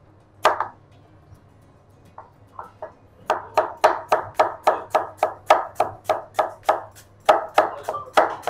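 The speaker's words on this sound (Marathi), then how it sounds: "तर आपण गोबी कट करून घ्यायचं." A knife chops cauliflower (gobi) on a board in a restaurant kitchen making Chinese-style veg: a couple of sharp isolated strokes, a few softer taps, then a steady, close rhythmic run of about fifteen crisp chops with no talking.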